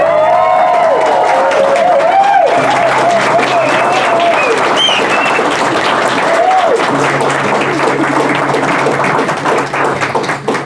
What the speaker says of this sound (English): I think they deserve a round of applause there, everyone.